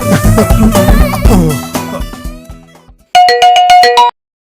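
A bright electronic ringtone plays a short rapid pattern of repeated tones after a fading chime, then cuts off into silence.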